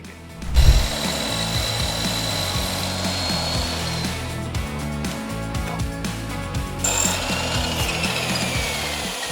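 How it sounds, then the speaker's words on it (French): Wooden bars for a homemade weight bench are sawn by hand in a steady, close back-and-forth rhythm of rasping strokes that carries on for the whole stretch, with a knock at the start. "Nous allons d'abord scier ces 3 barres."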